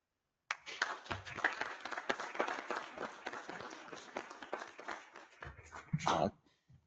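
Round of applause in a village board meeting room, a burst of scattered clapping from a small group that starts abruptly and runs several seconds, with voices mixed in before it fades out.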